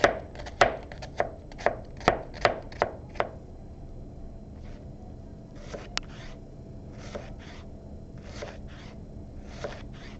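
Onion being finely chopped for kefta with a knife on a board: a quick run of sharp, close knocks in the first few seconds, then quieter, sparser cuts and faint scraping.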